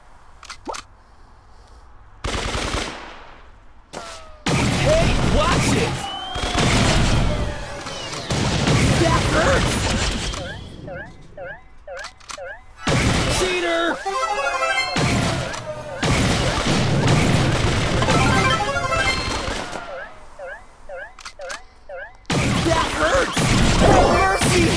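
Gunfire and explosive booms from the mobile game Brawl Stars during a match, loud repeated shots and crashes in dense bursts with short pauses, music and effects layered throughout.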